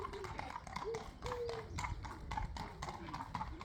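Horses' hooves clip-clop on a village road early in the morning, a steady close rhythm of shod hoofbeats passing nearby while people talk over it.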